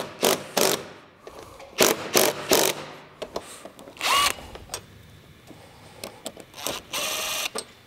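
A power tool loosening the factory roof rack mount bolts on a Lexus GX470, in short whirring bursts of uneven length with brief pauses between them, close and fairly loud.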